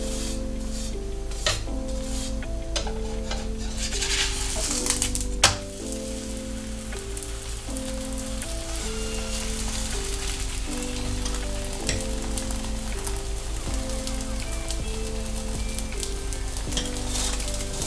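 Flatbread fries in a hot pan with ghee or oil, the heat turned up high, giving a steady sizzle that runs the whole time beneath background music, with no one speaking.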